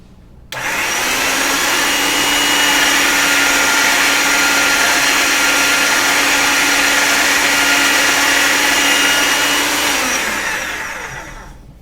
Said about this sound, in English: What I'm going to do now is to get it through the pasta machine on a thinner setting than this.